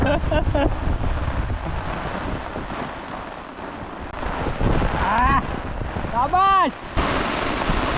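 Gusty wind buffets the microphone throughout, with a steady wash of rain noise in the Konkan region; a few faint tonal squeals cut in near the end.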